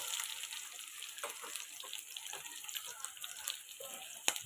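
Onions frying in hot oil in a kadai for a vankaya (brinjal) fry, giving a steady close hiss and crackle with small pops and one sharp snap near the end, with no talk.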